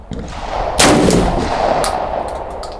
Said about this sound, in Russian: Будьте осторожны и внимательны, потому что уже заряжено, я буду стрелять.